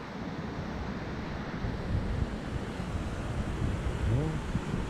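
Ocean waves roll onto a beach in steady wind, a faint, continuous surf wash mixed with low gusty rumble from wind on the microphone, with no voices.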